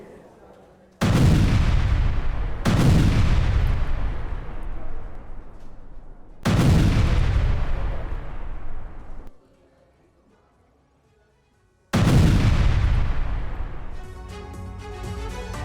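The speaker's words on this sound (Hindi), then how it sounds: "एक जोरदार धमाके की आवाज आती है" Several loud, booming blasts strike one after another in Gaza, each rumbling and decaying for seconds, with a quieter gap before a final heavy boom.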